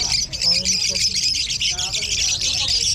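Many small birds chirp and tweet in a dense, continuous high chorus at a pet market, loud and close, while people talk underneath.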